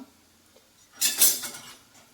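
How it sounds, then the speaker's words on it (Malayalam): A pressure cooker holding potatoes for a white curry is opened after five whistles, giving a short, loud burst of hissing and metallic clatter in the middle, with quiet before and no talking. "അഞ്ച് വയസ്സിൽ വന്നിട്ടുണ്ട് നമുക്ക് കുക്കർ തുറന്ന് നോക്കാം"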